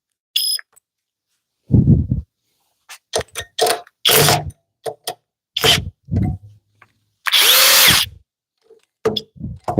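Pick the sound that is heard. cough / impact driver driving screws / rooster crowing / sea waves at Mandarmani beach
impact driver driving screws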